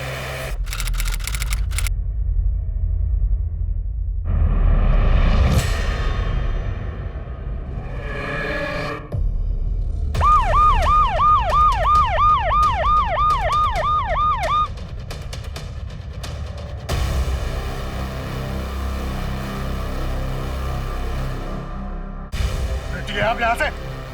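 An ambulance siren wails in rapid, repeating up-and-down sweeps for several seconds amid dramatic booming music and sharp hits in a TV crime drama scene.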